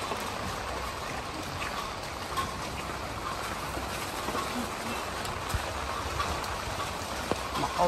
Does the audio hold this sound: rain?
yes